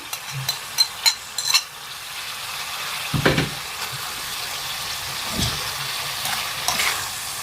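Liver sizzles in a hot pan as caramelized onions are added for a liver, onion, pepper and pomegranate molasses fry. A steady crackling hiss is broken by a few sharp utensil clinks and stirring scrapes.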